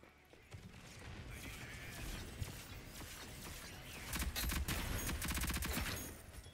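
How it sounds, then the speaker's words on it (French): A gun in the video game Rogue Company fires a quick rattling burst near the end, after mechanical clicks and game noise, with voices faintly in the background. "Ah, c'est une rafale."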